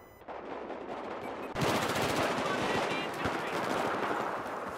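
Rapid machine-gun fire from the video game Battlefield 4 rattles in dense, fast bursts, quieter at first and then louder and continuous for several seconds.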